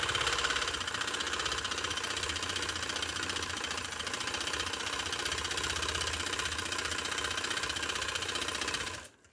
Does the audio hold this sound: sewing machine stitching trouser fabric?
yes